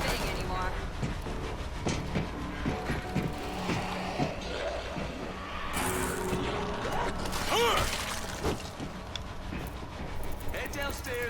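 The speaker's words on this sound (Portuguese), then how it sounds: "Bora ligar esse trem." A subway train in the World War Z video game rumbles and clanks as it starts up, with metallic mechanical knocks and a rising rolling drone over busy game noise, no talk.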